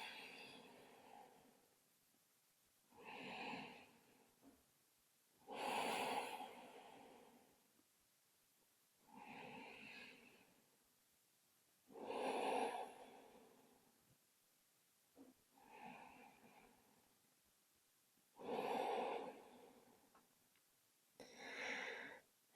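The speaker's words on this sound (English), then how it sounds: "taking a nice deep breath in through the nose. Exhale" Slow deep yoga breaths drawn in through the nose and let out, eight or so soft airy swells spaced a few seconds apart, close and quiet with stillness between them and no talking.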